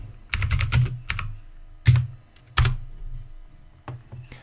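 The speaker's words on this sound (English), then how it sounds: "start the Social Engineering Toolkit by typing sudo settoolkit" Computer keyboard keys tapped to enter a sudo command in a Linux terminal: several quick bursts of clicks with short pauses between them, close and fairly clear, with no talking.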